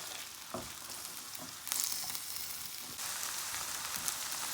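Beans frying with onion and garlic in a hot pan, a continuous close sizzle that swells louder partway through, with a few soft stirring knocks and no talking.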